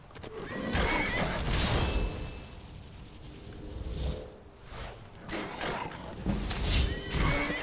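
A horse neighs and whinnies loudly while under attack in the video game Skyrim, several shrill cries rising and falling over about seven seconds with a dull thudding underneath.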